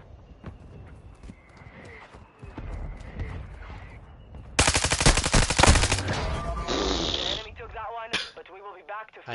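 Gunfire in the video game Call of Duty Modern Warfare II, a dense burst of rapid automatic shots after quieter movement sounds, loud and close, with voices talking over parts.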